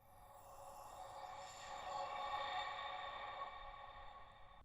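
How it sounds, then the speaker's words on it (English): A Logic Pro stock Noise Sweeper effect, a soft airy noise sweep that gradually swells, holds and slightly thins out over several seconds, heard alone. "the second one is called Noise Sweeper"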